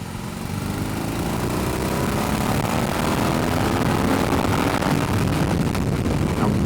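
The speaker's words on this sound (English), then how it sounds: "a beautifully tuned engine." A BMW R18 100 Years edition motorcycle engine heard onboard while riding, a steady, loud low-pitched drone that rises gradually in pitch, with rushing wind noise over it and no talk.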